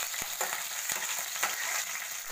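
Curry leaves and tempering spices sizzle in about five spoons of hot oil in a pan, a steady close frying hiss with a few sharp crackles and pops, heard alone without talk.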